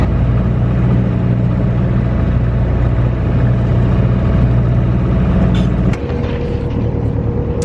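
A sailboat's engine motors steadily, a loud continuous low rumbling drone with faint wind noise, its tone shifting slightly near the end.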